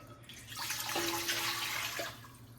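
Water poured from a tap or jug into a cooking pot for homemade cranberry sauce, a steady close splash rising for about a second and a half, then trailing off, with no talking.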